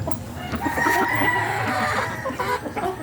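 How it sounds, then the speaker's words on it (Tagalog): A four-month-old Boston black cross sweater grey rooster crows and clucks at moderate distance, with scattered farmyard fowl sounds around it. "Napakapoging manok."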